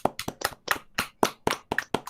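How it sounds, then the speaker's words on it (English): Rhythmic clapping, about ten sharp, evenly spaced claps close to the microphone, each crisp and distinct with short gaps between them, sounding like one or two people rather than a large audience. "I want to ask you especially for some clapping for my dad"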